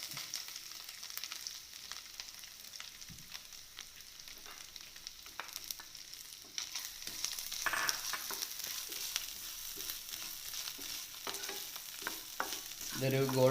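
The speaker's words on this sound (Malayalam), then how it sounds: "ആദ്യമായിട്ട് നമുക്ക് ഈ തേങ്ങ കൊത്തൊന്ന് വറുത്തെടുക്കാം." Pieces of coconut fry in hot coconut oil with a soft, steady sizzle that grows louder partway through, joined by light stirring scrapes, close and with no talk.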